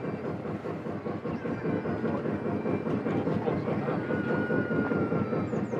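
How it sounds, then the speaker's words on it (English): A miniature train runs through Miniland at LEGOLAND Windsor, a steady rumbling roll with faint clicking from the track, heard close and continuous amid outdoor theme park ambience. "And there goes the train."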